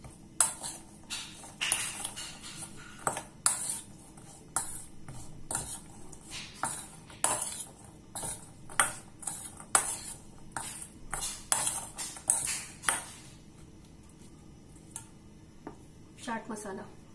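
Spoon mixing aloo chaat with salt, lemon juice and spices in a bowl, a quick series of close, sharp metallic clinks and scrapes in irregular bursts, fading toward the end.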